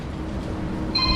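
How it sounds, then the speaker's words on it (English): A mobile phone starts ringing near the end, a thin electronic tone that rises over low room noise during a Toyota CV axle replacement. "And of course my phone wants to ring."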